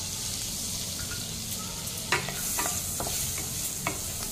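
Garlic frying in butter in a hot pan, a steady close sizzle with a few sharp stirring scrapes and clinks, no voices.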